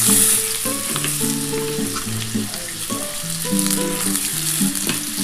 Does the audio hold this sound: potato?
yes